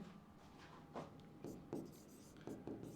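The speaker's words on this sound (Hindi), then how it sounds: "तो हम यहां पर लिखेंगे" Writing on a board during a Class 10 maths lesson: soft scratchy strokes repeat in short bursts, close and fairly quiet, with no speech.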